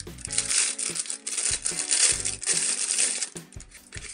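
Small coins jingle and clink inside a little wallet with owl print, a steady rustling, rattling shake lasting several seconds, close and fairly loud, no talk.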